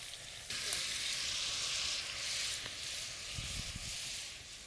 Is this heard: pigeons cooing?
no